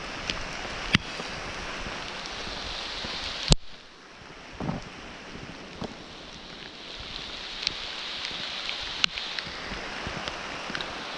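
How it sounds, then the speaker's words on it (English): Rain falls steadily while walking outdoors in Victoria Park, a broad hiss of drops mixed with wind buffeting the microphone, with a few sharp knocks and brief quieter dips along the way. "Walking in the rain."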